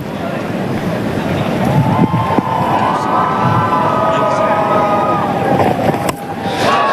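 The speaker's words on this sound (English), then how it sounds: "the Ireland fans in the crowd are up and about" Ireland fans cheering in a cricket stadium crowd, a loud, sustained roar of voices and whistles rising and falling throughout.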